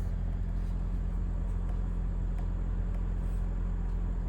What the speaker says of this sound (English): The engine is powering the battery to recharge it right now